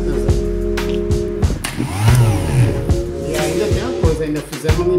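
A repaired and cleaned Makita sander's electric motor runs loud and steady, with a continuous whining drone and fluctuating pitch throughout, close by.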